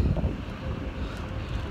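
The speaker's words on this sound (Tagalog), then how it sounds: "Lakas ng hangin." Strong wind buffets the microphone with low rumbling gusts, a brief continuous roar with no talking.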